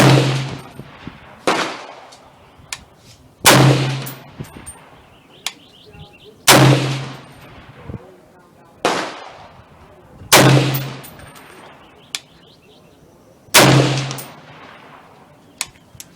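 Loud gunshots at a shooting range, five or six sharp reports spaced a few seconds apart, each with a ringing decay, plus some fainter pops and bird chirps in between.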